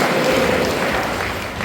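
A church congregation claps hands in a dense, continuous wash of applause, loud and close throughout the brief moment.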